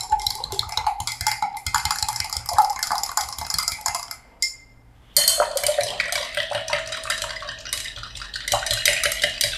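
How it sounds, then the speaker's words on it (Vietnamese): A spoon stirs sugar into a glass of oolong jasmine tea until it dissolves, making continuous rapid clinking and scraping against the glass. There is a brief pause midway, then the stirring resumes, close and fairly loud. "Sau đó chúng ta khuấy cho đường tan hết"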